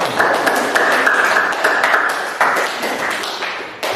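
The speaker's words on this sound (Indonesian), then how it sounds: "Mari kita berikan aplaus untuk kelompok 1" Classroom applause for a student group after their presentation: loud, close, rapid clapping from several people, held steady for about four seconds.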